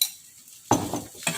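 A spoon stirs sayur asem soup in a pot, just after salt and sugar are added. A short scraping and sloshing bout starts after a quiet pause, with a second brief burst near the end.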